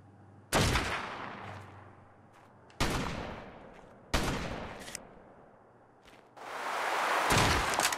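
Sniper rifle shots in a multiplayer video game, four loud booming cracks a second or two apart, each trailing off in a long echoing decay, the last one longer and rumbling, no talk.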